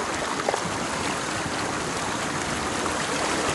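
A river flows nearby, a constant dense rushing of water with faint splashes, steady and close throughout, with no one speaking.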